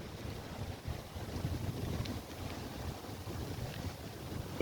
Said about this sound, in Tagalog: mahangin at makulimlim.